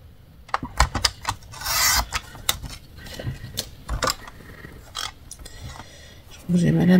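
A paper trimmer with a dulling blade cuts paper, giving a series of sharp clicks and a longer rasping slice, with a voice briefly at the end.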